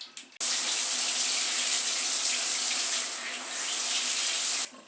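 Water runs steadily from a bathroom tap during a wash-and-go hair routine, a constant close hiss that starts abruptly after a brief pause and stops near the end.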